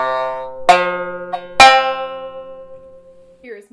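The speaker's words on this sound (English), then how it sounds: "to make it sound like a fat shamisen, we've got to put this koma in the center of the shamisen" Two sharp plucked shamisen notes with the bridge (koma) set in the center give a thick, buzzy twang that rings out and decays slowly, followed by a softer pluck.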